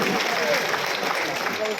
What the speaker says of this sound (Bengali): হাঁটুদার জন্য জোরে হাততালি বা করতালি হোক